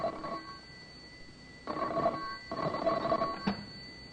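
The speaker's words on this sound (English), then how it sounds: "the telephone rang" A telephone bell rings twice in a radio drama office scene, two short mid-loud bursts separated by a pause, with no talking.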